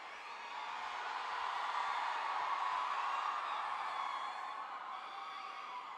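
Big crowd at a film song launch for Ponniyin Selvan, with cheering, applause and whistles forming a dense, steady roar that holds loud through the whole stretch and then eases slightly near the end.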